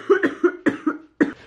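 A woman coughs in several quick bursts, a tight cluster of harsh, close hacks followed by a final single cough.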